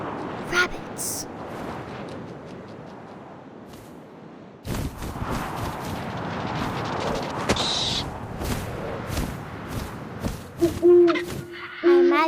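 Owl hooting in the video game What Remains of Edith Finch, repeated low hoots over a windy ambient backdrop with a narrator speaking.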